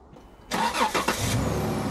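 After a jump-start with jumper cables, a car engine cranks and catches, bursting into a loud close start and settling into a steady idle.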